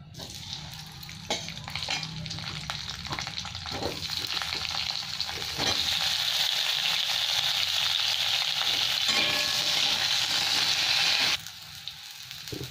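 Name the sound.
potatoes frying in oil with black cumin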